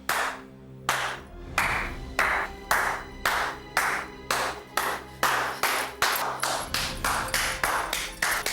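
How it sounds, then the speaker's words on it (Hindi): Rhythmic hand clapping in slow, even beats, roughly two per second, loud and close, continuing alone without talk. "तालियां क्यों बजा रहे हैं?"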